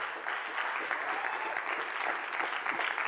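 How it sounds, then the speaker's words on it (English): Steady, dense applause from a large church-style audience at a motivational sermon fills the whole span, loud and continuous with faint crowd murmur underneath. "keep clapping in this place"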